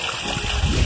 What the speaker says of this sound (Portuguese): Veja como tá aqui, o tempo aqui em Ibiratinga, um tempo chuvoso.